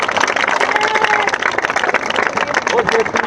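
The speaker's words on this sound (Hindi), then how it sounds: "एक बार जोर से ताली जाए।" A congregation at a baptism service claps loudly and continuously, a dense crowded patter that fills the whole stretch with voices mixed in.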